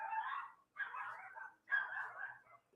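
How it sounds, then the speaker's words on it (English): Dogs give three drawn-out, whining barks or yelps, faint and muffled as if from another room, with short pauses between them. "On the background, I can hear my dogs just barking, going crazy."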